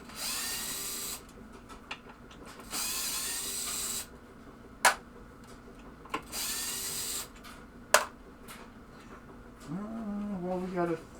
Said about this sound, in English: take these screws out that hold the stepper, the Playfield